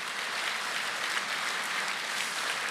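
Steady applause from a church congregation at an Easter joint worship service fills the space, a continuous dense patter of many hands clapping, with no voices over it.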